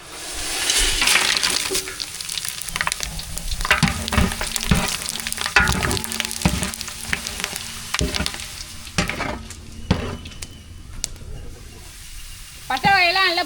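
Cinnamon and whole spices sizzle in hot oil and ghee for a vegetable pulao, a close, steady crackling fry with stirring clatter and occasional sharper pops, while someone talks over it.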